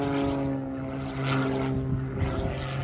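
An aerobatic propeller airplane flies the flywheel maneuver at the 2023 Oshkosh airshow, its engine droning steadily with slow swells and fades as it turns through the figure, moderately loud and without talk.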